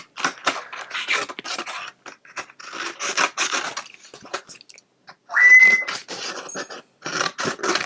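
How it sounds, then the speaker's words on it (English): Scissors rough-cut around a small snowman on a Christmas card for a papercraft project: rapid, close snips and crisp paper crunching in uneven bursts with brief pauses, alone without talk. "I'm just going to just rough cut around this snowman."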